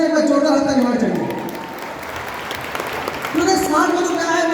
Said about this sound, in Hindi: एक बार जोरदार हाथ ताली होना चाहिए